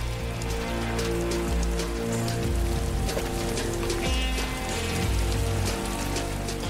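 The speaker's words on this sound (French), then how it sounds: "la répétition est brusquement interrompue par une pluie torrentielle" Torrential rain pours down in a dense, continuous roar of drops hitting surfaces, loud and unbroken throughout, with no talking.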